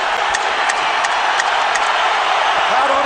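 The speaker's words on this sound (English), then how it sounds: "Crowd on its feet." A boxing arena crowd during the Canelo Alvarez vs Gennady Golovkin fight, a constant roar of cheering in the twelfth round with a few whoops rising above it.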